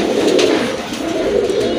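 A sky-blue pigeon, one of a breeding pair kept in a loft, coos in a steady low murmur, close and alone without voices.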